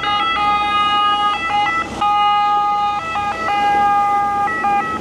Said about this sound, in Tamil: ஆம்புலன்ஸ் போட் இது.